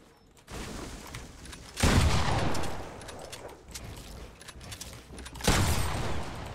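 Dual pistols fire in the video game Fortnite in two loud bursts of rapid shots, separated by quieter stretches of game ambience.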